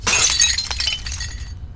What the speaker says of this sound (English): Please just smash the glass.